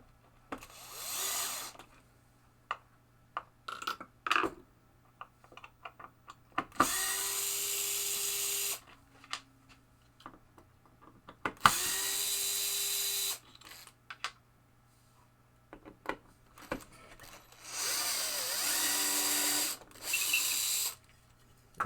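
A power drill removing screws from a 1975 Bally Bow and Arrow pinball playfield, several bursts of whining motor a couple of seconds long with rising pitch, between clicks, taps and handling noises in a quiet room.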